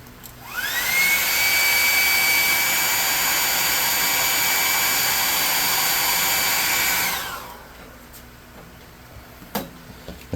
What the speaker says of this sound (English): Now we're going to need to hit this with a hairdryer.